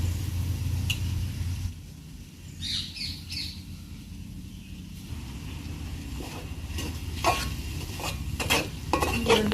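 Soaked moong dal being stirred in a cooking pot, a steady scraping and sloshing texture with a few sharp clinks near the end, faint chirps in the background and no talking.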